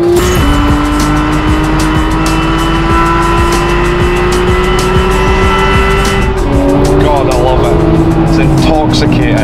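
Porsche 911 991.2 GT3 Clubsport with sports exhaust, its engine close and loud, pitch rising steadily through the revs before a gear change drops it, with someone talking over the drone.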